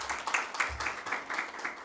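An audience at an International Day of the Girl Child event gives a short burst of applause, a close, brisk patter of many hands clapping, with no talking.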